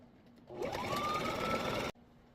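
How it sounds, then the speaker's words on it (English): A sewing machine top stitching fabric for a tote bag, one short close burst of steady whirring that starts and stops cleanly, with no talk. "you're just going to do a top stitch on these right now"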